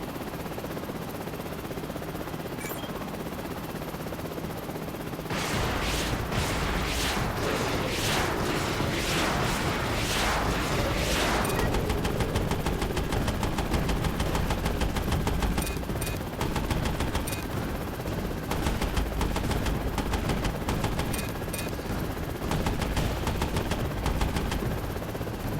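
Game gunfire from Prototype pours out in long loud automatic bursts of rapid shots with booming impacts. It starts after a quieter stretch and goes on nearly to the end.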